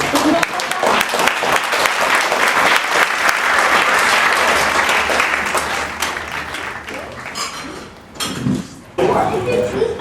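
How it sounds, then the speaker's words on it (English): Audience applause at a poetry performance rolls on loudly for several seconds, then thins and fades while a voice speaks briefly over the tail end. "Oh, keep the clapping going because Komninos is coming up."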